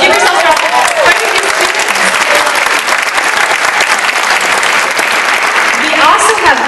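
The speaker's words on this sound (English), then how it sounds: "So give yourselves a round of applause." A large conference audience of students applauding, dense sustained clapping throughout, loud and close, with some crowd noise mixed in.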